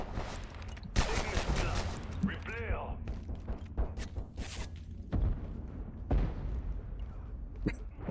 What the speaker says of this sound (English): I was going to go out in a hell of gunfire there